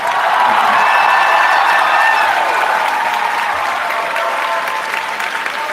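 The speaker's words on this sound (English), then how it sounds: "Can we give them a huge round of applause one more time?" An audience at a summer symposium opening session gives the camp nurses a loud, sustained round of applause, a thick, even wash of clapping with faint cheering mixed in.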